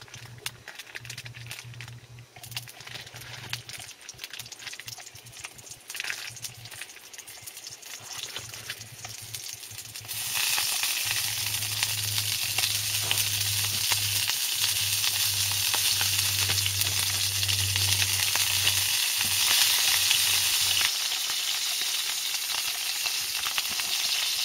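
Cheap Farm Foods bacon frying in a pan outdoors beside a fishing lake, a steady loud sizzle that swells and broadens midway, with a low hum running underneath.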